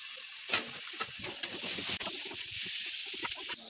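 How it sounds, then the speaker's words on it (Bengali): Mixed vegetables and eggplant frying in hot oil in a home kitchen, a steady close sizzle broken by irregular stirring scrapes and clinks of a spoon against the pan. "সবজিগুলো ভাজা হয়ে গেছে, এবার বেগুন দিয়ে দিচ্ছি।"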